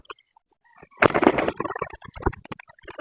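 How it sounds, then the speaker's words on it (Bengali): Chickens flapping and scuffling as they attack a weakened pigeon, a sudden burst of wing beats and pecking thumps near the recorder, followed by scattered softer scratching and fluttering. "মুরগির আক্রমণ করছে"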